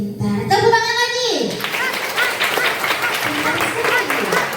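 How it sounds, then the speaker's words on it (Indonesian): Students at a school orientation session clap their hands in a rapid, scattered burst of claps that comes in after a voice and runs on under further talking. "Tepuk tangan lagi."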